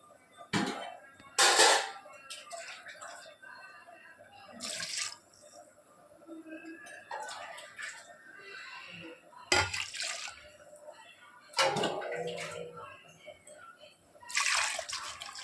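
Water poured into a pot of crab rasam while cooking, arriving in several separate splashing bursts with quieter gaps and light kitchen clatter between them.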